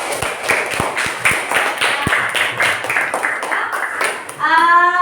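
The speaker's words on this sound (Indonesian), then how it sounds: "Sekali lagi tepuk tangan." A classroom of students claps for a group after a lesson on decomposition. The claps are scattered and uneven, with voices over them, and a bright electronic melody rises at the end.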